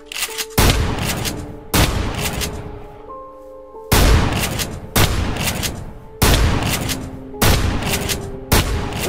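Video game gunfire rings out in loud, dense bursts of rapid shots, each lasting about a second, separated by short gaps with faint lingering tones.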